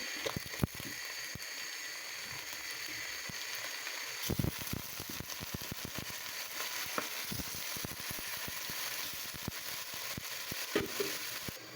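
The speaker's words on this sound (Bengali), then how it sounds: "এখন পেঁয়াজগুলোকে আমি সম্পূর্ণরূপে লাল করে নেব" Onions fry in a pan until browned, the first step of a beef curry. Continuous crackling sizzle fills the clip, broken by sharp pops and stirring clatter at moderate volume, with no talking.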